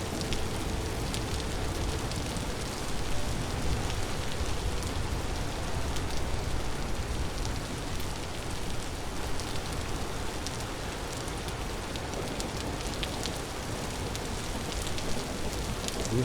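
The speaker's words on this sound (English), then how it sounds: "You have to be concerned about the rain." Steady rain in the survival game Vintage Story, a dense continuous hiss of drops pattering on surfaces at an even level throughout, with no voices.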